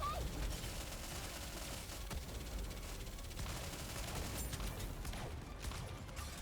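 Volley gunfire in the mobile game NIKKE, a dense sustained barrage of rapid shots and mechanical clatter under game effects, fairly faint overall.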